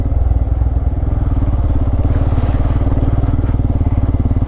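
A motorcycle stuck on an uphill climb, its engine revving hard in a loud, continuous throbbing drone with slight surges, close by and alone.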